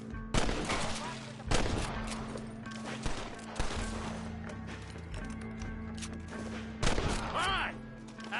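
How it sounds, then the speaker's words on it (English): Gunfire in the Red Dead Redemption game during a town shootout: repeated loud sharp shots in bursts with spacing between them over constant background noise and a faint voice. "Keep shooting."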